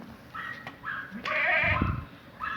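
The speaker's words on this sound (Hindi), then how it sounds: "ये दूध वाली बकरी है" A dairy goat on a goat farm bleats in several wavering calls, a short cry followed by a longer loud one and a final bleat, close and clear over faint background noise.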